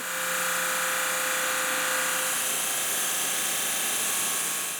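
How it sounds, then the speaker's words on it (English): Wooden boards being sanded for a deer head wall hanging, giving a steady, continuous hiss-like scraping texture with a faint tonal whine, loud and even throughout with no talk. "Then we sand them."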